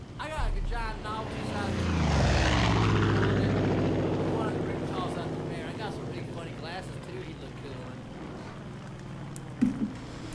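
A helicopter in the Far Cry 5 video game churns with a low rotor drone that swells around two seconds in and then holds steady. Game effects are layered over it, and a sharp knock comes near the end.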